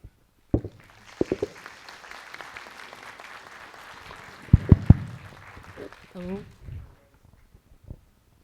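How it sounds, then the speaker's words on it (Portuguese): A ceremony audience breaks into applause after a speech, a brief spatter of clapping that swells and fades, with voices and movement mixed underneath and a short burst of talk near the end. "palmas para eles"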